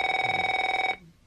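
A telephone bell rings steadily and close, a continuous electronic trill that cuts off abruptly after about a second, leaving near silence.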